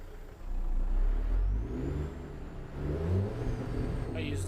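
A truck engine in a driving video game revs and surges, rising and falling in two long swells, loud and close with little else around it.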